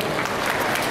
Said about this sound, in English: Everybody give a round of applause for Ms. Patty